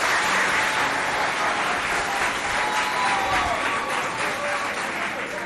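A hall audience claps for two competing high schools, the lycée Humanité and lycée Saint-Charles Luanga, in Sarh, giving a steady, full ripple of applause that fills the room and fades slightly toward the end.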